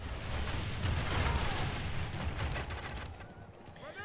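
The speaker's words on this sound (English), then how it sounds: "The enemy begins to fire." Enemy troops open fire in a Total War battle, a dense rumbling barrage of distant gunfire and booming shots that rolls on continuously before easing off toward the end.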